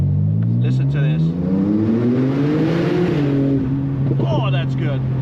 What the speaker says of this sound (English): let's put the car into sport mode, and you get these little burbles